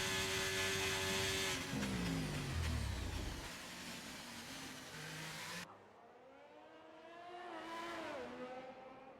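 Race cars lapping a track in a racing video game league, engines droning and sweeping in pitch as cars pass close by, one loud passage fading into a quieter, more distant engine whine that rises again.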